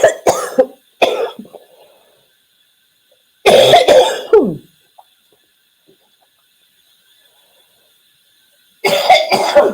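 Several short bursts of coughing and throat clearing close to the microphone, with long quiet gaps between them.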